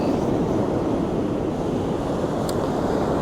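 Ocean waves surge steadily against the shore in a continuous broadband wash, with wind buffeting the microphone throughout and no voices.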